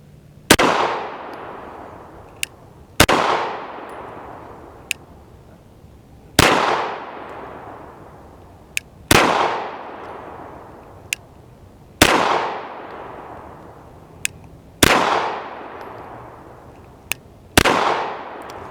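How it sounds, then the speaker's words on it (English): A CZ P01 Tactical compact pistol fires seven loud, close single shots at a target, spaced about three seconds apart. Each crack trails into a ringing echo, with sharp faint ticks between shots. "we're going to show you what this thing looks like shooting at that right side target"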